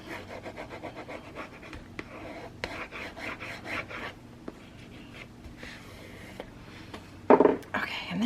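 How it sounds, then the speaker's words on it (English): Tape being rubbed down firmly by hand, a dry rasping scrape that repeats in short strokes, fairly quiet and close, ending with a louder sharper burst. "I'm gonna burnish this as best I can in this situation"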